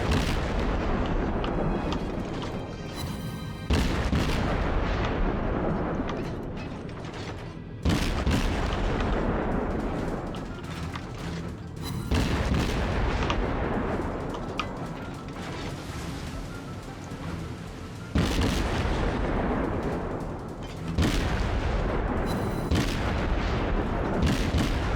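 Warship guns fire in the naval combat game World of Warships, heavy booming salvos landing every few seconds with long rumbling decays between them, loud and close.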